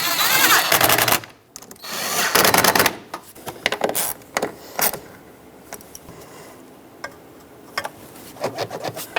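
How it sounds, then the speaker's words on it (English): Clamps being tightened on the intake snorkel of a 1999–2007 Ford F-350 with a 7.3L Powerstroke, heard as bursts of close ratcheting, scraping and rubbing with short pauses between. "And tighten up the clamps."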